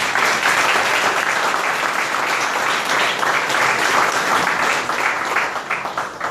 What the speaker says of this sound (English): can we give Jessica a round of applause?